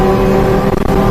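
A mini-truck engine with a bigger boost pulley held at full throttle, a loud close steady drone with a brief wobble near the end, no talking.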